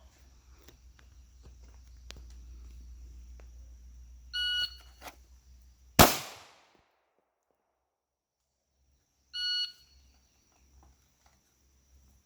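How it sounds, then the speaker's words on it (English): At a shooting range, an electronic shot timer gives short, clear beeps, once before and once after a loud close gunshot whose boom rings out and fades, with the range otherwise quiet. "I'm using the timer just to give me something to go each time"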